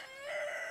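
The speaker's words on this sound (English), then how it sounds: "Cock-a-doodle-doo." A rooster crows briefly in the video game Honey, I Joined a Cult, a short, fairly faint cock-a-doodle-doo call.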